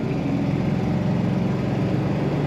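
A 1970 Oldsmobile 442 rumbles steadily through its exhaust, a deep continuous low drone held at an even loudness from start to finish, with no voices over it.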